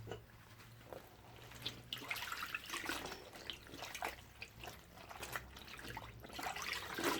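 Clothes being hand-washed and soaked in water with fabric softener for a final rinse give soft, close sloshing and trickling, with irregular splashes and drips throughout at a low level.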